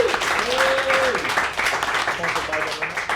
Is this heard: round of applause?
yes